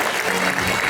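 Brief burst of audience clapping at a celebration event honoring a poet, a dense wash of many hands filling the room at full strength.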